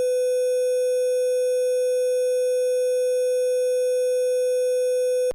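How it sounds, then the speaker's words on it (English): A steady pure sine test tone holds at one constant pitch, loud and unbroken for about five seconds, then cuts off abruptly at the end. "Let's do a sine wave again."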